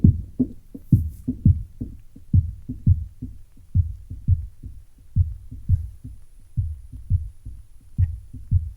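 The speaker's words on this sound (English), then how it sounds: "listen to the lows. And we want to fine tune it so it catches just the kick mainly" Kick drum of a jungle breakbeat with the low end isolated, a fast, busy run of deep thumping hits in syncopated rhythm, repeating steadily throughout.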